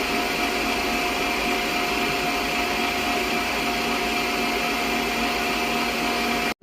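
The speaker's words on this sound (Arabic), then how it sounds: "وأظل أخفق أعلى سرعة لحد ما تتجانس المكونات ويصير القوام كريمي" An electric mixer whisks orange cake batter at top speed, giving a loud, steady, unbroken motor whine that holds constant and then cuts off abruptly at the end.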